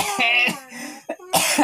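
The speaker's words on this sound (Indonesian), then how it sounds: "Batuk lur." A couple of sharp coughs with throat-clearing sounds between them, close and fairly loud, with no talking.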